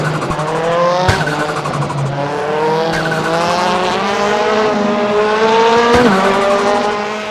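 Touring car in the RaceRoom sim-racing game: a loud engine rising and falling through gear changes, with sharp shift clicks and tire squeal, close and continuous with no talk.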